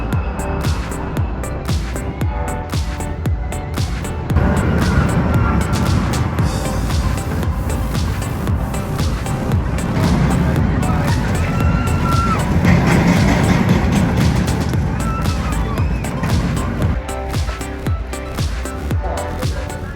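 Anaconda roller coaster at Kings Dominion running, a continuous loud rumble and rattling roar of the train on the track, with wind noise and faint voices mixed in.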